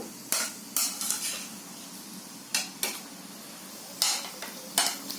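Shankarpali fry in hot oil and are nudged with a slotted spoon: a soft steady sizzle underneath, with a handful of sharp metallic clinks and scrapes arriving in short bursts.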